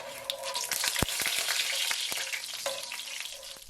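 Two bay leaves, two cinnamon sticks and a few cardamom pods fry in ghee and oil, a loud close crackling sizzle with sharp pops and a few stirring clicks.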